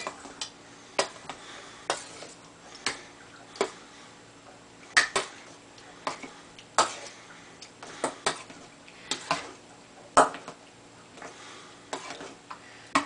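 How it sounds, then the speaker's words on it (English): Wet ingredients, including real vanilla, are mashed by hand with a potato masher for energy bars, giving a series of sharp, regular knocks and squelching taps against the bowl about once a second, close and unaccompanied by speech. "I got a potato masher here"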